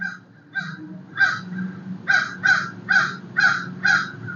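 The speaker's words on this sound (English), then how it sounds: "do you hear those birds?" Crows caw repeatedly, about eight harsh calls spaced roughly half a second apart, fairly close and clear over a low hum.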